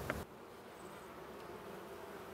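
Bees at a Polish apiary near a pond hive give off a steady, low droning hum that runs evenly throughout, with a brief louder burst at the very start and no talking.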